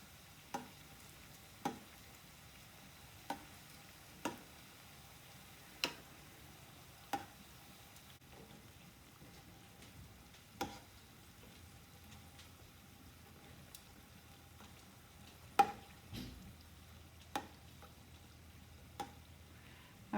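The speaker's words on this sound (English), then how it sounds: "So you're just going to need to just stand guard till these have all fried up." Cinnamon crispas fry quietly in oil with a faint steady hiss, punctuated by sharp pops and crackles at irregular intervals, close by with no talking.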